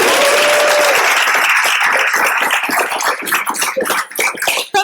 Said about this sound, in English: give another round of applause to the amazing slew of pitches we just heard this morning